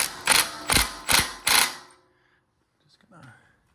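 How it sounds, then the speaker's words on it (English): A ratchet with a 1 1/16 inch socket tightens a castle nut on a Kubota ZD1211 zero-turn mower's front axle: four loud, evenly spaced clicking pulls, then near silence and a faint rattle. "I'm tightening this castle nut. I'm using a 1 1/16 inch socket on here."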